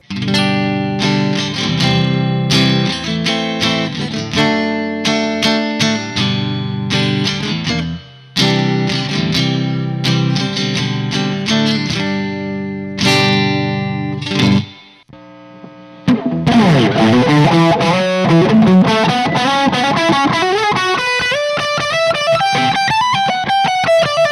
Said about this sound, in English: So we're just running it straight through the Hughes and Kettner Tubemeister 36 built-in reverb.